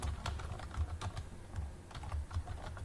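Full name being typed on a computer keyboard, a steady run of close, light key clicks with short pauses and no talk.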